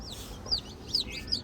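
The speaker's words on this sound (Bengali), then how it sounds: "এই একটা মুরগি আসতেছে" A hen clucks three times in short bursts, close and fairly loud, against a steady low rumble of background noise. No one speaks.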